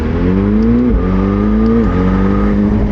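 A McLaren 720S Spider supercar drives along with a loud, close engine drone. Its pitch climbs and then drops abruptly twice, at a steady interval, as paddle upshifts come in quick succession.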